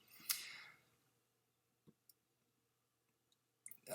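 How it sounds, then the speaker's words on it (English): A few faint, sharp mouse clicks spread across a quiet stretch, with a soft breath or rustle near the start and a brief noise at the end. "if I click on the link here"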